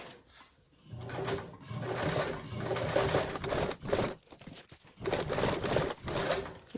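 Sewing machine top-stitching a blanket backpack gusset, running in steady mechanical bursts of rapid stitching separated by brief pauses, fairly close and unaccompanied by talk.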